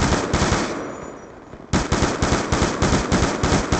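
Automatic gunfire in the video game Black Ops II as a UAV is shot down: a loud burst, a short lull, then a steady rapid stream of shots close up.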